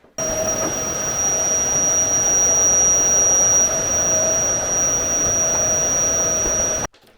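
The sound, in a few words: vacuum cleaner hoovering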